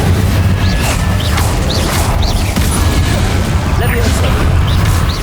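An Incendio fire spell cast in the Hogwarts Legacy video game, heard as a burst of flame and a few booms inside a dense, continuous wash of battle noise.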